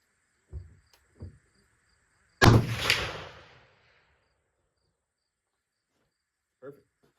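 A single loud 50 caliber muzzleloader rifle shot cracks out at a shooting range and rolls into a decaying boom, bracketed by a few faint handling knocks and clicks before and after.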